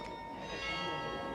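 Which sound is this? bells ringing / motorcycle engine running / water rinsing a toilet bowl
bells ringing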